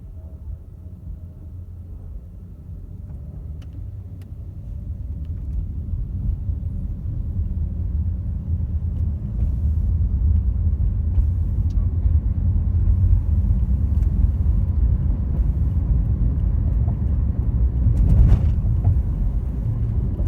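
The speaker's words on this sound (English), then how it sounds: "The traffic is always, it seems, always heavy." Heavy road traffic in Texas, a dense, continuous low rumble of passing cars and motor vehicles that swells louder after the first few seconds and holds steady, with a brief sharper whoosh near the end and no talking.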